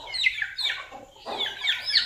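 A hen clucks in a few close, loud, throaty bursts with a short gap between them, sounding near at hand around a backyard coop with chicks.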